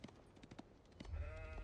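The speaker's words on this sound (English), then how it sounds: "There's some sheep over here for sure." Sheep bleating in the Age of Empires IV strategy game, a short steady bleat rising clearly over low game ambience after a series of faint clicks and soft effects.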